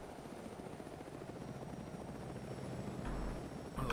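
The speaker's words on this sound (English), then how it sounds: "I gotta get lower than the helicopter." A helicopter in the military shooter Squad Ops keeps up a steady low rotor drone that grows slightly louder toward the end, with a sharp burst of noise in the last second.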